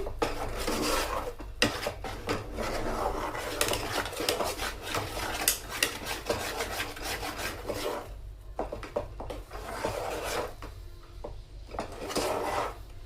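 Cake batter stirred in a bowl for a stovetop Christmas and New Year cake, a continuous close rubbing and scraping of the utensil against the bowl in quick repeated strokes, steady and fairly loud with a brief pause partway through.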